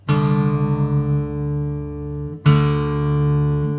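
Acoustic guitar string plucked twice while being tuned, each pluck ringing out clear and sustained, close and fairly loud with no talk.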